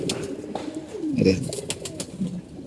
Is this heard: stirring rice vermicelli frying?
no